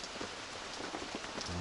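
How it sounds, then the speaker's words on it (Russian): Rain falling outside during a building project on a clay wall house, a soft, steady hiss of drops on surfaces, faint and continuous with no speech. "Хотя я выходил, не было дождя, он опять тут начался."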